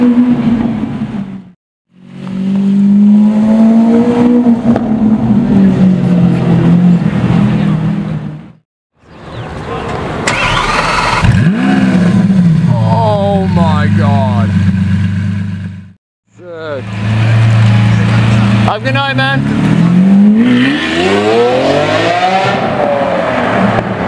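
A Lamborghini Aventador SV roars through three long, loud revving bursts up close, its engine pitch climbing and falling, separated by brief silent cuts, with a voice speaking between the revs.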